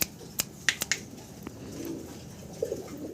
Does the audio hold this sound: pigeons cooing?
yes